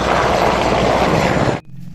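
A toy military helicopter's spinning propeller gives a loud, steady whirring buzz that cuts off abruptly near the end, leaving a faint hum.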